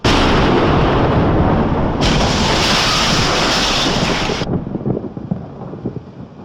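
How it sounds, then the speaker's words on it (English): A huge thunder crash hits like an earthquake during a storm: a loud, dense roar that sits steady for several seconds, then breaks into a rougher rumble and fades. "Thunder hit like an earthquake."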